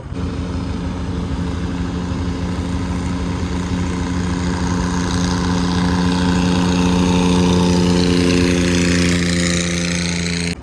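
A motorboat engine drones steadily and loudly while the boat is driven through a Thai mangrove forest, with low harmonic hum and broadband wash throughout, no voices.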